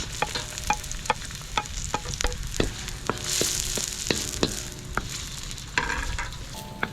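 Onion frying in a pan, a steady close sizzle broken by sharp scraping taps of a stirring utensil at an irregular pace, with no voices.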